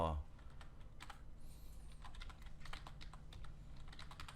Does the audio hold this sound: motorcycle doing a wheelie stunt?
no